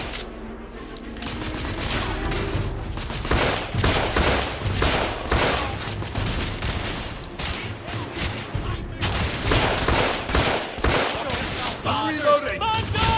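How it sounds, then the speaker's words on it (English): Heavy gunfire in The Order comes as dense, loud rapid volleys of shots that keep going almost without pause, with brief lulls and some scattered voices. "I'm taking heavy fire!"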